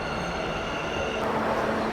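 A crowded Bengaluru metro train rolls along with a steady, loud rumble and hum heard from inside, the noise holding constant throughout without voices.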